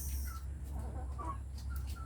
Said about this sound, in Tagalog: Ito po yung ating mga manok.